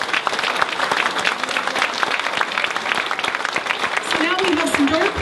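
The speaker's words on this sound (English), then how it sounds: "join me in a round of applause for all of the award winners and nominees tonight" Loud, continuous audience applause for award winners and nominees at a small business week awards ceremony fills the whole stretch, dense and steady, with a faint voice or tonal sound rising near the end.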